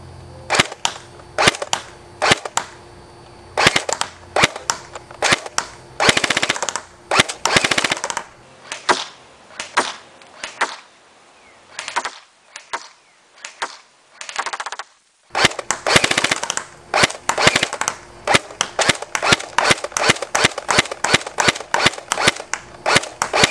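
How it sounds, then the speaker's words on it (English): A Classic Army P90 airsoft gun fires biodegradable BBs at a target 50 feet away in rapid snapping bursts and single shots, with a quieter gap midway before the firing resumes. "now we're going to take aim at the 50-foot mark and show you the kinds of groupings you can get. Firing at the lower target."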